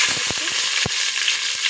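Green chillies frying in hot oil with bay leaf and whole spices for a chicken curry, giving a steady loud sizzle with a few short clicking stirs and crackles close by.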